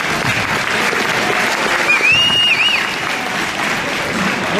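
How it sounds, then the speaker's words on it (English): Sustained applause from an audience at a high school girls basketball event, loud and steady throughout, with a brief whistle rising above the clapping midway. "Let's have a big round of applause for all of our speakers."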